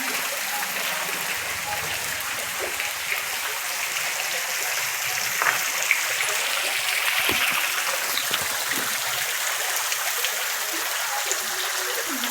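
Water at Gangrel Dam in Dhamtari, Chhattisgarh, a steady broad rushing and splashing roar that holds throughout, with faint voices and scattered clicks mixed in.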